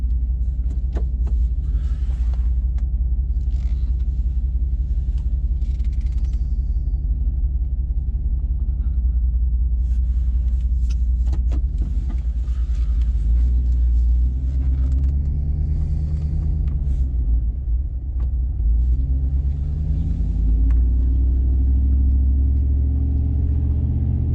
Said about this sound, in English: You'll hear more to the exhaust than anything.